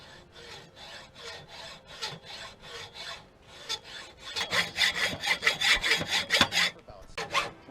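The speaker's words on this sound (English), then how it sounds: "So right about here, we're going to hacksaw that off." A hand hacksaw cuts through a metal license plate bracket on a Honda CB500X, with steady back-and-forth rasping strokes that speed up and grow louder midway, close and alone with no talking.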